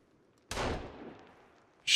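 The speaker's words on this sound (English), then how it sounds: "Oh, she's shooting him." A single gunshot in the survival game Sons Of The Forest, a sharp report with a decaying tail, followed by another abrupt loud burst at the end.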